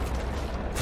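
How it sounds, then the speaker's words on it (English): A drone powering up in the video game Rainbow Six Siege, a steady mechanical whir and ratcheting rattle that holds at an even level for under a second, with no voices. "Activating drone."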